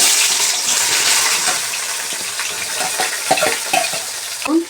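Oil sizzles and crackles steadily as onions fry in a pan, with some stirring scrapes and a clink near the end.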